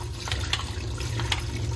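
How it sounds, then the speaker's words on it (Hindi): Poha flakes are rinsed in a sieve under a running tap, giving a steady wash of water with faint splashes and trickles and no talking. "तो ये जो पोहे हैं इनको हमने एक चलनी में डाल लिया है और बहते हुए पानी में इनको अच्छे से धो लेंगे।"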